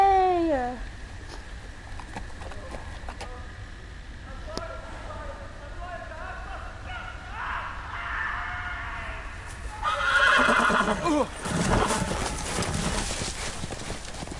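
A horse whinnies and hooves clip-clop amid Game of Thrones video game sound effects, with people talking over it throughout.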